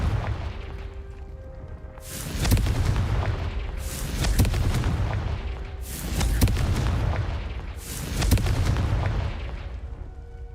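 Four heavy booming bursts of the Confringo fire spell in Hogwarts Legacy, evenly spaced about two seconds apart, each a loud rumbling blast over a constant low background drone.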